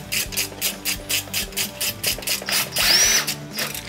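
A power drill drives screws into the top of a slatwall display frame in short repeated bursts, with a rising whine near the end. The drilling is close and fairly loud, and no one speaks.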